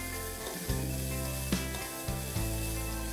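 Chopped onions sizzle steadily in a hot pan, a continuous close frying hiss with a few soft clatters from stirring, no voices.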